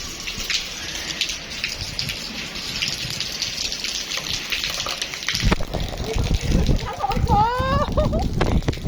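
Steady rain hisses throughout with scattered drops, joined midway by louder splashing and a brief rising tone, with voices in the background.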